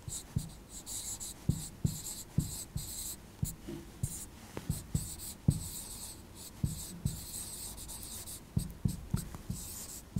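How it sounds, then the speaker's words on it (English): A pen writes by hand on paper while working a chemistry solution, making a steady run of close, scratchy strokes and taps, each word in short rhythmic bursts with brief pauses, and no speech. "I'll write the complete word"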